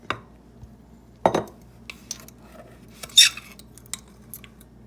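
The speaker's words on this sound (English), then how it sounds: "Now it calls for 1 tablespoon of sugar, so I'm gonna add that." A tablespoon of sugar goes into a mixing bowl: a few sharp spoon clinks and scrapes against the bowl, spaced out over quiet, with one bright metallic tap near the end.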